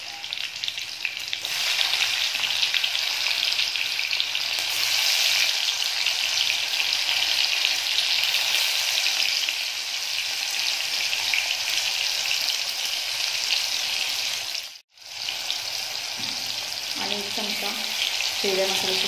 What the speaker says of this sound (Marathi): हिरव्या मसाल्याचे तेल टाकून खवळून घ्यायचं